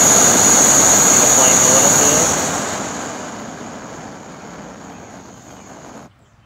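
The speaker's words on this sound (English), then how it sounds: "It's the same like a jet stove." A budget ultralight mini stove with a dual fuel adapter burning with a loud, steady roaring hiss like a jet stove, close up, which fades down partway through and then cuts off abruptly near the end.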